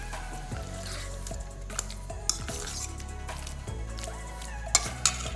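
A mixture being stirred in a pot makes a quiet, steady scraping, with an occasional light clink of a spoon against the metal and a low hum beneath, and no speech.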